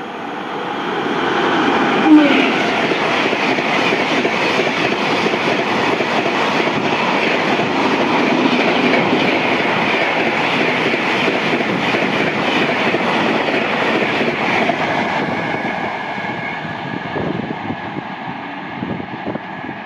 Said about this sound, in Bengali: 12339 up Howrah Dhanbad coalfield superfast express গেল এটি। ওয়াফ 5 লোকো ছিল, দারুণ গেল।